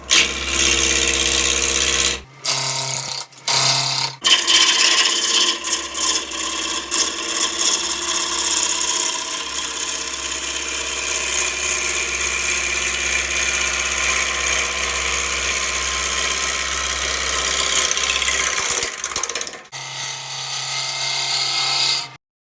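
Wood lathe spinning a spalted apple ogee bowl at around 1,200 rpm, with a steady close-up rotational hum and a scraping tool rasp, broken by brief pauses near the start and the end.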